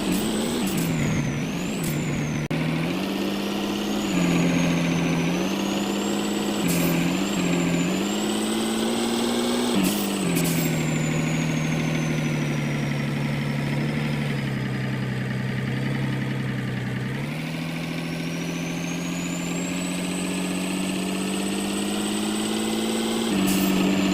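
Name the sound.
truck engine hauling a tractor in a video game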